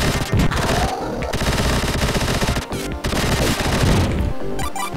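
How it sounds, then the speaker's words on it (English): Rapid-fire arcing weapon shooting in the video game Vectorman, a dense, loud stream of electronic gunfire bursts running almost continuously with brief gaps, game sound effects alone without voices. "This one's rapid fire. But as you can see, it's a rapid fire arcing weapon."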